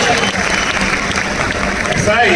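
Audience at a Hindi-language event clapping loudly for the women present, a dense, continuous burst of applause close by with voices and cheering mixed through it.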